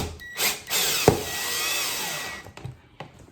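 A power drill drives screws into a plastic outlet box being fitted to a loveseat center console, with a steady whirring motor run of about two seconds that slows as the screw snugs up, preceded by a short burst and a sharp click.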